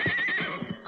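A horse whinnies loudly and close in a radio drama sound effect, one rising neigh with snorting breaths and a couple of soft hoof clops as it trails off.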